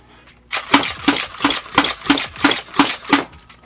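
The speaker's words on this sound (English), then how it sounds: "since it's built like a Lynx, you can actually slam fire it" A compact grip-fed Nerf blaster built like a Lynx is slam fired, giving eight sharp, evenly spaced mechanical clacks of foam darts launching in a rapid rhythm, close and loud, with no talking.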